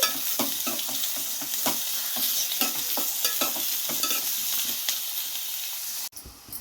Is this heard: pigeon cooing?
no